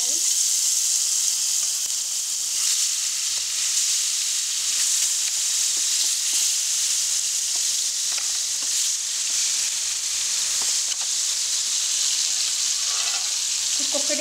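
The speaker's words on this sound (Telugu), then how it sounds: "నానబెట్టిన చేప ముక్కల్ని ఒక్కొక్కటిగా వేసుకొని ఫ్రై చేసుకోవాలి." Marinated fish pieces fry in hot oil, a close, steady high sizzle running without pause, with faint occasional clicks of the pieces being placed and shifted.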